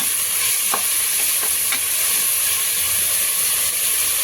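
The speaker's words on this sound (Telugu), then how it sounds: "కొంచెం రంగు మారేంత వరకు మనం ఫ్రై చేసుకున్నాం." Onions with salt fry in a pan for mutton keema, giving a loud, steady sizzle and hiss close by, broken by a few faint scraping stirs and no voices.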